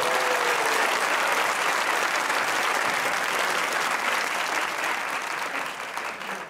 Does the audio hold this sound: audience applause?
yes